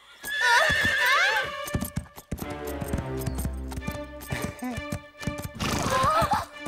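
A cartoon horse neighs in a shrill, wavering whinny while hooves clip-clop steadily beneath it, and a second whinny rises near the end among the hoofbeats and voices.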